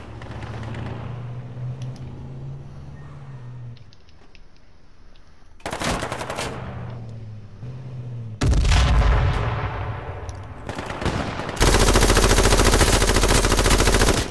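Gunfire in H1Z1 battle royale: loud bursts of automatic fire and single shots come in several separate volleys over a low engine hum, getting denser and louder toward the end, with no talking.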